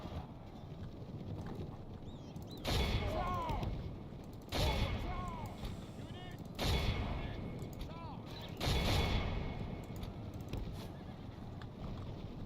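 Troops firing guns in a Medieval II video game battle, four heavy volleys at roughly two-second intervals over constant battle din with horses whinnying throughout.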